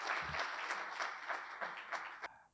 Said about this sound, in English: So with huge round of applause, let us welcome our speaker, CA Gaurav Kapoor.